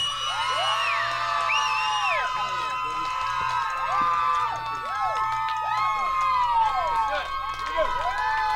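A concert crowd cheers and whoops continuously for the heavy metal band, with many shrill, overlapping yells and whistles filling the room at a loud, steady level.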